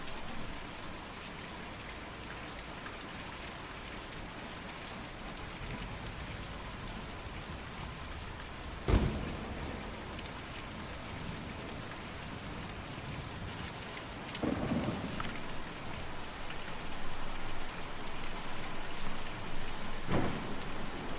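Night rain falls steadily in the video game Kentucky Route Zero, a constant hiss of heavy downpour with a few sharp thunder cracks and a later low rumble rising above it.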